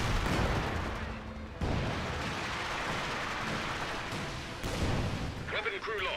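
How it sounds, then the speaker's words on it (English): Land Mattress rocket artillery salvo in Company of Heroes 2, a rumbling barrage of launches and booms with abrupt surges, heard under a speaking voice. "Land Mattress firing away."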